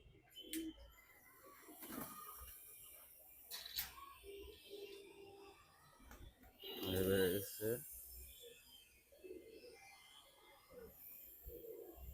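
Pigeons in a cage coo softly in a few scattered bursts, with one louder, closer coo partway through, amid light background voices and rustling.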